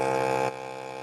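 A vacuum sealer sealing a bag of corn scraps gives a steady electric motor hum that drops abruptly to a quieter drone halfway through, close and alone.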